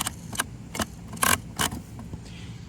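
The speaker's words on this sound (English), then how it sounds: "It's an old sprinkler. Sounds like a shifter or car." An old metal garden sprinkler rattles as it is handled, giving five or six sharp clanking jangles at irregular intervals, close and moderately loud, with no talk.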